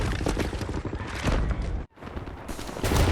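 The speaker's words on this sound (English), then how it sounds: "Right, lads, you ready to lay down suppressor fire?" Rapid suppressing gunfire in a Call of Duty video game, dense continuous bursts of automatic shots that break off briefly near the middle before resuming, loud and close.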